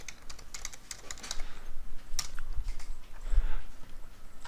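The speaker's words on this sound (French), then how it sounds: "Je tape fauteuil dans la barre de recherche" Fingers type a short word on a computer keyboard in a quick burst of close, crisp key clicks, with irregular pauses and a few heavier taps near the end.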